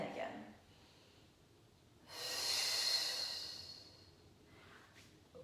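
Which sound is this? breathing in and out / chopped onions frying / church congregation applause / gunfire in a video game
breathing in and out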